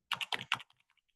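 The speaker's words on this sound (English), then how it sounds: "But we'll nudge it over with the keyboard." Computer keyboard keys are pressed in a quick cluster of three or four crisp taps, followed by a few fainter clicks that trail off, close and alone.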